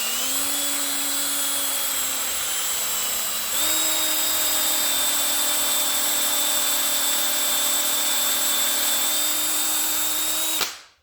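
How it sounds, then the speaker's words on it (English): Power drill boring a hole into a metal block for a bead roller build, a loud steady high-pitched whine that steps up in pitch partway through, then cuts off abruptly near the end. "I drilled a hole, so I'll drill that down pretty a decent way"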